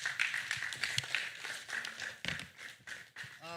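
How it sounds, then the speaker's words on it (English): Quiet, scattered clapping from an audience at a youth entrepreneurship policy dialogue session, a loose patter of hands that stays fairly faint throughout. "Another round of applause, please."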